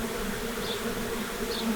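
Honey bees trapped inside a garage wall give off a steady, dense buzzing drone, close and fairly loud, with a couple of brief higher whines rising over it.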